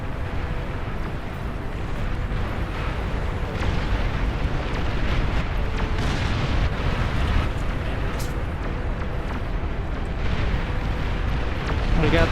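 Nuclear missile explosions in the real-time strategy game Beyond All Reason, a continuous loud rumbling roar of blasts with a few sharper bursts over twelve seconds.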